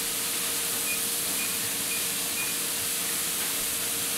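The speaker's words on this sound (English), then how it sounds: "But anyway, this steam is coming out." Steam vents from a pressure canner processing chickpeas, a loud, steady, continuous hiss with an unbroken broadband rush throughout and a faint tone whistling intermittently within it.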